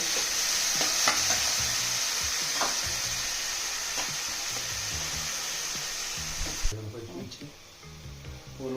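Ginger paste and onion paste frying in a pan for a country chicken curry, a steady loud sizzle with scraping stirring strokes, easing off near the end.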